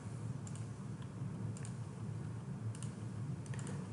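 Calculator keys are tapped in short clusters of quick clicks against a low steady hum, with no talking.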